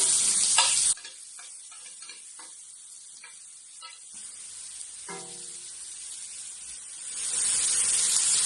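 Mushrooms sizzle softly in a pan with onion and garlic, a faint hiss punctuated by scattered clicks and stirring taps, the frying swelling louder near the start and again toward the end.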